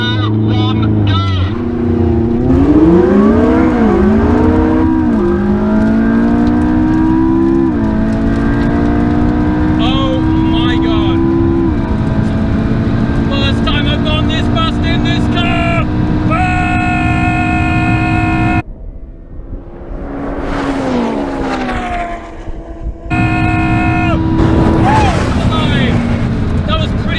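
McLaren 675LT using launch control, the engine roaring loud and close through repeated upshifts with rising and falling pitch, a brief cut-out midway, and a person talking over the run.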